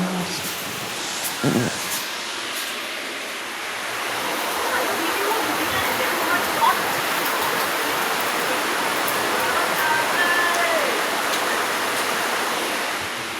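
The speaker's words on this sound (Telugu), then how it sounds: "దారుణంగా పడుతుంది వర్షం అయితే అండి" Heavy rain pouring down outdoors, a dense continuous hiss that swells after a brief knock early on and stays loud and steady throughout.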